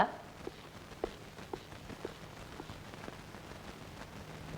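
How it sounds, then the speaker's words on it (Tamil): Steady rain falls outside, a soft hiss with a few scattered drop-like ticks, fairly faint and with no talking. "வெளியில மழை வேற பெஞ்சிட்டு இருக்கு"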